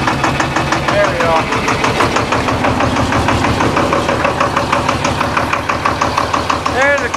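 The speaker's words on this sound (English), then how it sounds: "There's a cold start." A John Deere 4020 tractor engine runs through a cold start, chugging loudly with a rough, knocking rhythm that holds steady throughout, close to the listener.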